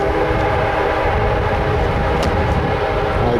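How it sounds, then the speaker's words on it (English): A train rolls past on a nearby railway line outside a town in Parkland County, a loud, steady low rumble filling the background with a faint higher whistle-like tone briefly cutting through. "I'm going to pause while that train goes by."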